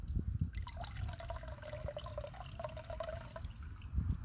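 Fresh water dripping and trickling on a farm, soft close droplets and a thin running trickle with a faint pitched gurgle, quiet and continuous with a few louder splashes at start and end.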